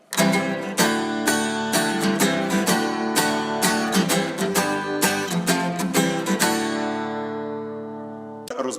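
Bright strummed acoustic guitar chords play a lively rhythmic intro to a song, ringing out clearly and fading at the end, followed by a final short strum.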